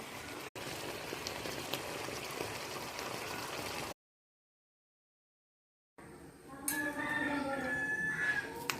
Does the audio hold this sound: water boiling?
yes